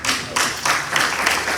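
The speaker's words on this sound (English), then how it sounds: "While y'all clapping, all that travel ain't free." An audience claps at a live talk during a speaker's intro session, a dense wash of applause filling the whole stretch at steady loudness with a few swells.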